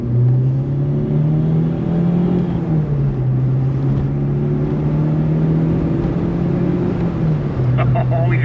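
A Renault 5 GT Turbo hot hatch engine revs while driving, a steady droning note rising and falling slightly in pitch, loud and close, with faint clicks near the end.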